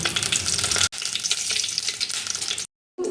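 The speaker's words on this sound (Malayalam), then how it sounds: "നമുക്ക് കടു വറക്കാം ഒരു മൂന്ന് സ്പൂൺ എണ്ണ അഴിച്ചിട്ടുണ്ട്" Mustard seeds frying in about three spoons of hot oil for a Kerala-style fish curry, a loud continuous sizzle and crackle that breaks off briefly near the start and cuts out fully near the end before resuming.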